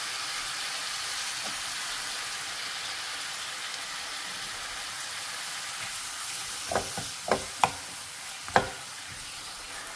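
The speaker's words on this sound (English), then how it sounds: "I take these Costco beef rolls and I just take a handful of them and toss them into a pan." Costco beef rolls frying in an oiled, preheated pan give off a steady broad sizzle, with a few sharper scrapes and clatters near the end.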